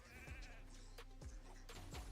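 Sheep in the game Raid: Shadow Legends let out a series of faint bleats at a low level, repeating every half second or so over a dense background of game sound.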